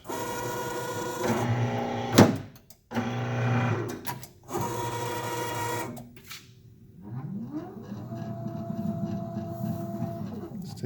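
An electric guillotine paper cutter, the EC19 PRO V2, cuts through a stack of paper: a steady motor whine, a sharp clack midway, then the motor winds up again to a rising, sustained hum close by.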